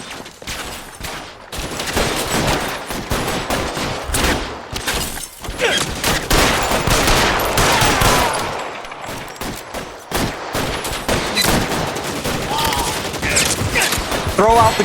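Gunfire crackles through a shootout in the video game L.A. Noire, with dense bursts of rapid shots and ricochet-like cracks throughout, loud and close, with occasional voices mixed in.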